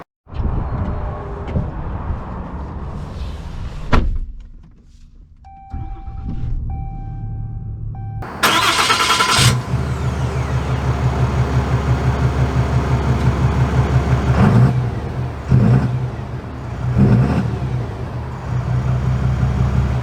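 A 2022 Ram 3500 Longhorn dually Mega Cab pickup starts up after a few clicks and brief quiet, then its engine settles into a loud, steady rumble with rhythmic pulsing and a couple of surges as it gets underway.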